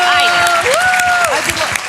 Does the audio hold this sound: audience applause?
yes